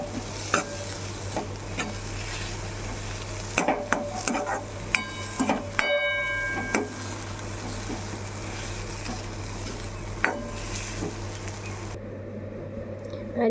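A spoon stirs a mixture of sugar and freshly squeezed lemon in a kitchen, giving scattered scraping and clinking touches over a steady hum, with a few sharper knocks against the container.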